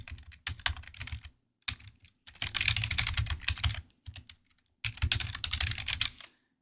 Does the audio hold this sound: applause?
no